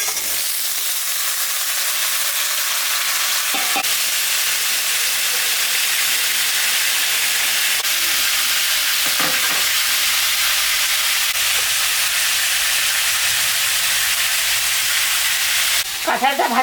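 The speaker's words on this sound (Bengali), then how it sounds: "ভাজা ভাজা হয়ে গেছে, এখন আমি কাঁঠালটা দিয়ে দেবো।" Green jackfruit frying in oil in a pan gives a constant hissing sizzle. Stirring scrapes break in now and then, and a final flurry comes near the end.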